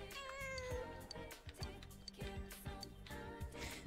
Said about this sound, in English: I'll play with the cat though.